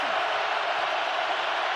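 A steady, loud wash of stadium crowd noise roars at a Chiefs–Seahawks NFL football game in Seattle, a continuous dense hiss of many voices with no distinct calls.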